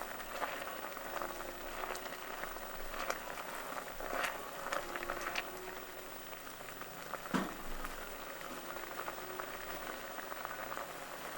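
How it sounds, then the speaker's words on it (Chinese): Muscat grape jam at a rolling boil in a pot over medium-high heat, a continuous close bubbling and popping with occasional louder bursts throughout. "煮到沸腾后，再持续煮6到8分钟"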